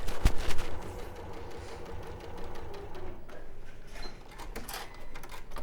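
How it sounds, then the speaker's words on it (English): A sewing machine stitches fabric pieces together for a tote bag or cushion, running in a steady, rapid mechanical chatter that starts with a sharp burst and continues close and fairly loud. "So you'd sew those 2 up."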